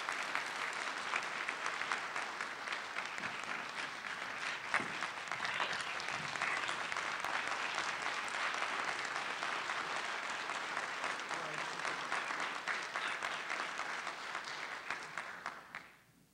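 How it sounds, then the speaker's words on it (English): Steady audience applause fills a convocation hall at a Charter Day ceremony, holding at an even level for about fifteen seconds before fading out quickly at the end. "I would just ask that you would give him another round of applause."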